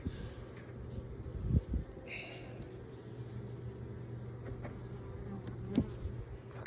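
Honeybees at an open hive with a homemade feeder make a faint, steady, low buzzing that continues throughout, with a few soft knocks and rustles of frames being handled nearby.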